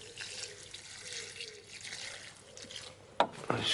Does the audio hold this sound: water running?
yes